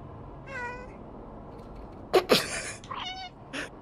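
Several cats meow in the Stray video game, a thin mewing call early on, then a louder burst of sharper cries and a few more meows toward the end, with no talk over them.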